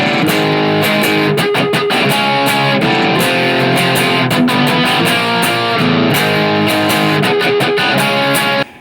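Loud, saturated electric guitar chugs through the Smells Like Teen Spirit riff, dense and continuous with rhythmic palm-muted stops and bursts, played alone for about nine seconds before cutting off.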